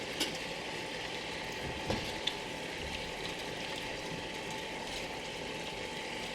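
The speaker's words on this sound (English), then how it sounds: "I'm going to turn this up so it's actually bubbling for a minute" A soy sauce mixture bubbling steadily in a pan on a stove, with a continuous watery simmer and a few soft clicks, no voices.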